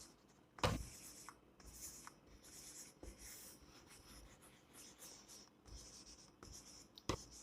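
A duster rubs across a classroom board, with soft intermittent scraping strokes and a couple of sharp knocks, fairly quiet with no talking.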